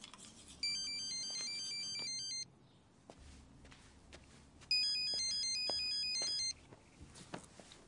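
A mobile phone rings with an incoming call, two bursts of a bright electronic melodic ringtone separated by a short pause, fairly close, with faint soft movement sounds around it.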